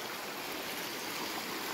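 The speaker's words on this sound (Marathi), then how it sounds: "खूप पाणी आलं नदीला" A swollen river rushes steadily in a constant broadband roar, unbroken and fairly loud, with no voices.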